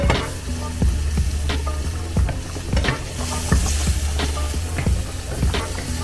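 Mushrooms sautéing in a pan for capellini ai funghi, a loud, steady sizzle with intermittent spatula scrapes and light clicks as they are stirred.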